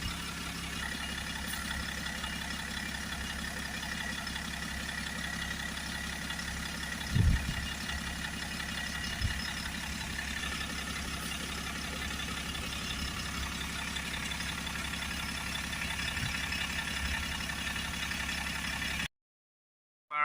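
A BMW 525d diesel engine idling steadily during a blocked particulate filter cleaning, a low, constant rumble heard from nearby, with one brief thump midway and the sound cutting off near the end.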